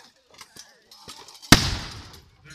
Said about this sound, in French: Les coups de canon résonnent.